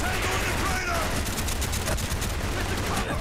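Rapid gunfire in Call of Duty Black Ops fills the whole stretch, a dense, continuous clatter of shots with bursts layered over one another, loud and sustained with no pauses.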